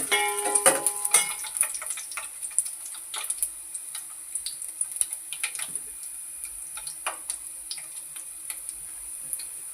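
Onion, garlic and curry leaves fry with masala in a pan, producing a light, intermittent crackle and ticking sizzle with a louder spattery patch at the start, then thinner pops.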